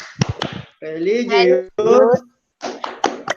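A class performing the Tepuk PPK chant, with sharp hand claps landing in quick rhythmic groups between loud spoken chant words from the group.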